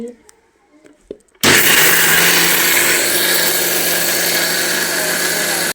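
A mixer grinder grinds rice that soaked overnight into batter. After a few quiet clicks and handling sounds, the motor starts abruptly and runs loud and steady, whirring close by until the end.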